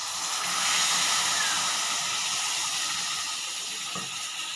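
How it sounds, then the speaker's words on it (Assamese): Milk poured into hot chana dal halwa hisses and sizzles steadily in the pan as it is stirred, a continuous close, loud broadband frying hiss with no talking. "গাখীৰখিনি মই দি ভালদৰে লৰাই দিওঁ।"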